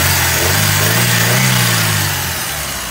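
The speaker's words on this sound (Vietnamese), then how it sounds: "máy nổ rất êm luôn anh em ạ." A 2009 Daewoo Gentra's engine idles smoothly and steadily at close range, a low even hum with no misfires or talk over it, fading slightly toward the end.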